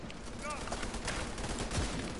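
Rapid gunfire in a video game battle against a tank, a dense, steady volley of shots lasting about two seconds with voices mixed in.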